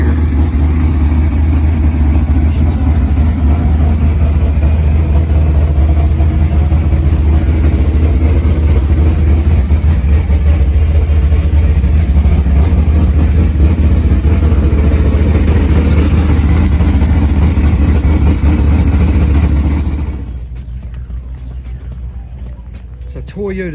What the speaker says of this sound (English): Toyota 1600. That's a little bitty looking engine there.